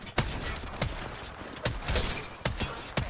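Gunfire in Apex Legends during a ranked firefight, several separate sharp shots spaced irregularly over steady background noise.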